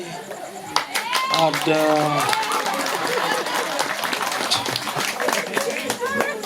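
Audience clapping at a comedic performance in Jelae, Tabanan, irregular hand claps rising amid lively chatter, with children's and adults' voices and shouting mixed in over the whole clip.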